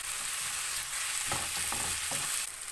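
Curry leaves fry in hot oil with chopped onion and cumin, giving a continuous close sizzle broken by a few bursts of stirring clatter and crackle.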